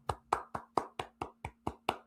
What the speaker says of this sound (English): Golf clap for silver.